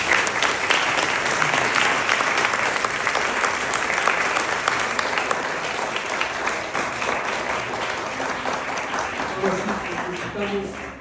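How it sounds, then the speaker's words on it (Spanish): An audience at a book presentation at Luis Barragán's Casa-Estudio gives the house staff sustained applause, dense and loud throughout with many overlapping hand claps and a faint crowd murmur. "De corazón, un aplauso."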